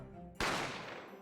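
A gunshot from The Great Ace Attorney Chronicles rings out as a sudden loud crack with a long fading tail, followed by another sharp burst at the very end.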